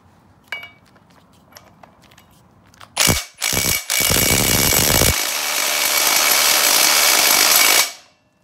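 A ratchet wrench with a 24 millimeter socket works on a Yamaha YFZ450 ATV during a teardown. A few faint clicks come first, then loud, harsh, close mechanical bursts give way to a sustained racket that stops abruptly.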